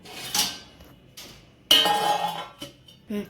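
Boiled amla, Indian gooseberries, are lifted out of a cooking pot onto a steel plate, giving several short metallic clinks and scrapes at close range.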